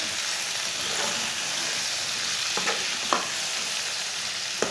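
Finely chopped tomatoes and green chillies sizzle in hot oil with browned garlic, a steady frying hiss broken by a few sharp scrapes and clinks of a spoon stirring the pan.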